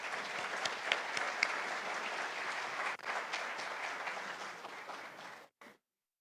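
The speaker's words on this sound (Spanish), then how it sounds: "un fuerte aplauso para todos los organizadores" An audience at a book launch in Riobamba applauds the organizers, a dense, steady round of many hands clapping that briefly dips, resumes, then fades and cuts off near the end.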